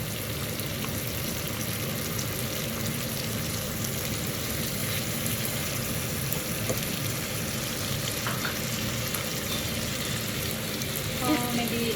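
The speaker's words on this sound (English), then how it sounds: "It's time to put the garlic and ginger paste in." Garlic and ginger paste sizzles in a pan with caramelized onions for a vegetarian varuval, a steady close frying hiss with occasional stirring and faint scraping throughout.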